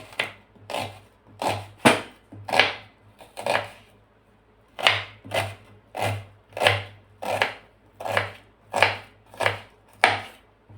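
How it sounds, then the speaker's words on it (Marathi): Fresh ghol (purslane) greens being finely chopped with a knife on a board, a steady series of crisp close thuds in quick bursts with a short pause midway. "बारीक बारीक असा चिरून घ्यायचा आहे।"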